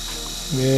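A steady electric buzz hums close by from a Xiaomi Enchen Blackstone 3D electric shaver, then a second motor tone from its trimmer kicks in partway through, louder and higher-pitched, running continuously.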